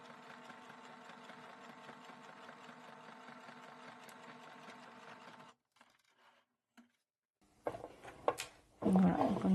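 A sewing machine hums steadily while sewing a second seam on a pocket, a continuous mechanical whir that stops halfway, followed by quiet handling and louder clattering noises.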